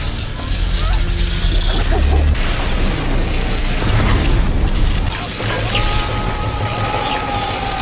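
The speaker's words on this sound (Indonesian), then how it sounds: "sedangkan Tony berhasil menghindar dari ledakan" A loud, sustained explosion from an Iron Man film scene: heavy booms and crashing debris roll on with rumbling, mechanical clatter for several seconds.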